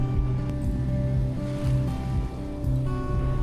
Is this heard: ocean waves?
yes